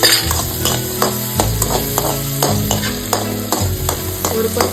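Garlic cloves and ginger pieces sautéing over medium heat in a pan, stirred repeatedly with rhythmic scraping clacks over a steady close sizzle.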